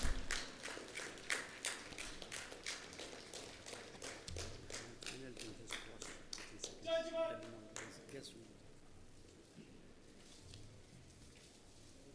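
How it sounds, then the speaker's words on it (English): Scattered clapping at a Republic Day ceremony in Manipal for a second-prize contingent, a series of distinct claps in a loose rhythm that slows and fades, with voices and a brief whistle-like tone mixed in. "A big round of applause for the second prize winner"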